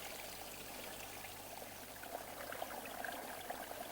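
Unfrozen spring water in a mountain setting in deep winter flows steadily, a constant broadband gurgling and trickling close by with no speech over it.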